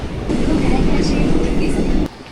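Subway train ride in Korea, a steady low rumble of the moving carriage running loud and continuous for about two seconds before dropping away, with faint background voices.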